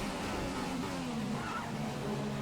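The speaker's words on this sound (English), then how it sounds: "So I'm going to try and do some late braking here." Race car braking in the F1 2015 video game at the Belgian Grand Prix: a dense, continuous roar of engine and tire noise with a faint squeal running through it, loud and close with no speech.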